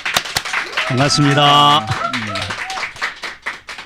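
Studio audience clapping to welcome a party leader guest onto a Korean talk broadcast, dense claps running under a man's spoken greeting and a brief sung or tonal voice.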